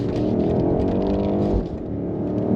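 A BMW 760i with 536 horsepower and all-wheel drive accelerates hard, its engine roaring loud and steady from close inside, then dipping briefly as if shifting before pulling again.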